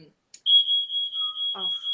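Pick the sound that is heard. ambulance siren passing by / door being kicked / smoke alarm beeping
smoke alarm beeping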